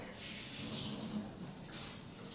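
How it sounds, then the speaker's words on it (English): A sink tap runs steadily to dampen sphagnum moss for orchid repotting, a soft continuous hiss of water with slight changes in flow, quiet and close. "let me get this a little bit moist at the sink"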